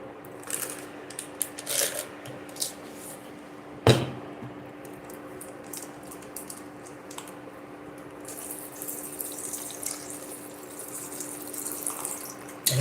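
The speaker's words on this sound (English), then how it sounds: "I'm gonna add a bit of water to the sauce." Water runs from a tap into a vegetable jollof rice sauce during cooking, a faint steady trickle with a sharp knock partway through and light splashing toward the end.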